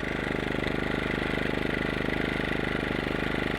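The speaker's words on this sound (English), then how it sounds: "now I'm standing right next to the exhaust outlet" An Amerisun 2500W inverter generator runs right beside its exhaust outlet, a loud, close, steady engine drone with a fast, even pulsing throb throughout and no voices.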